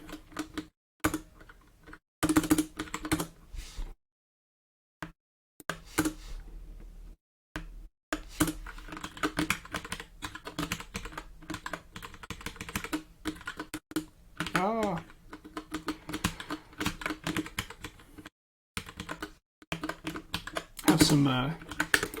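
Typing on a computer keyboard, near bursts of rapid key clicks broken by pauses, with a person talking at times between and over the keystrokes.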